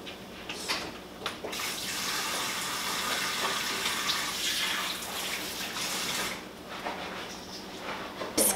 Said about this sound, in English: And I'm gonna rinse my hands real quick.